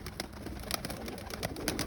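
Pigeons coo and flutter close by, a soft burbling chorus over a dense background rustle.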